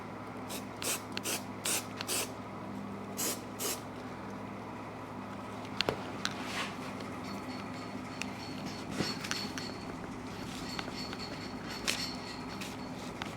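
Short spurts of adhesive hiss from a spray can onto foam during a Suzuki TS-250 motorcycle seat rebuild, faint and close, with light rubbing and handling sounds between bursts.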